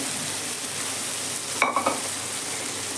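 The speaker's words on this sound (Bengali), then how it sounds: "এবার আমি ডালটা এর মধ্যে দিয়ে দিচ্ছি।" Lentils tipped into masala-fried soybeans in a hot pan, with a steady sizzle throughout and a brief scrape and clatter of stirring midway.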